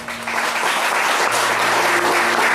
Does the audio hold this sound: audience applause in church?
yes